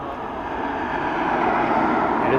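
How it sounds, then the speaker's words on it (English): A Coast Guard helicopter flies at Dublin Airport, a steady broadband engine and rotor roar that holds throughout and swells slightly toward the end, moderately loud with no talk over it. "Coast Guard helicopter."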